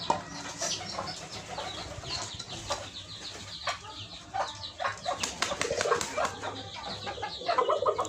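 Native deshi chickens cluck and call on a poultry farm in Mymensingh district, with irregular close clucks, a few louder squawks and some wing flapping, and no talking.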